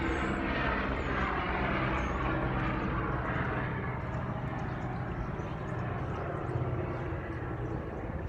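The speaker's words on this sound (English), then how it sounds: "every time I try to record a video, they always got helicopters flying." A helicopter flying overhead fills the air with a loud, steady, broadband rotor and engine roar that holds evenly throughout, with no pauses or breaks.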